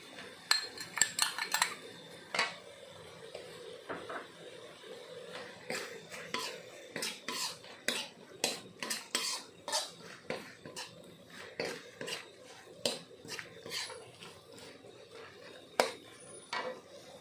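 Stir-frying southern Thai dry beef curry with lemongrass and galangal: a metal spatula scrapes and clinks against the pan in an irregular, steady rhythm, close by, with faint background noise.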